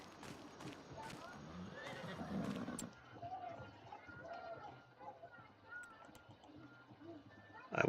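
Horses in the farming game Farmlands neigh and whinny several times over clip-clopping hooves, with a voice speaking alongside and a louder burst at the very end.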